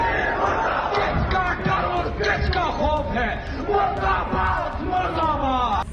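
A large protest crowd in Pakistan's Punjab chanting slogans against the army chief, loud and continuous, many voices shouting together in rhythmic bursts with no pause.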